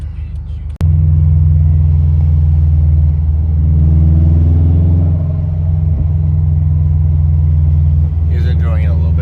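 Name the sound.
Subaru WRX idling on full E85 tune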